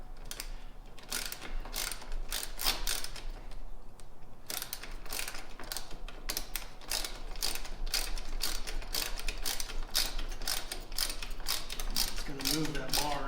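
A ratchet wrench tightens bolts on an engine guard being fitted to a 2021 BMW motorcycle, with long runs of fast, crisp clicking strokes, close and fairly quiet, and a brief pause partway through.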